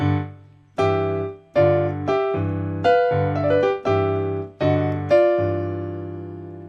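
A solo piano plays a short blues phrase of struck chords and notes in a loose rhythm, ending on a sustained, ringing chord.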